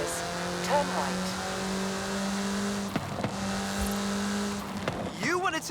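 A car driving in Forza Horizon 5, with a steady engine drone, brief tire squeals and revs toward the end, and talk over it.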